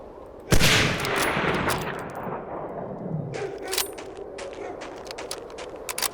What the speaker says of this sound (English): Ease up on the bullet spam.